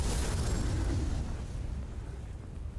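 A blaze spell explosion in the fantasy game Tainted Grail: The Fall of Avalon: a loud, deep boom that starts the clip, then a long rumbling roar fading to a steady low crackle, with no voices.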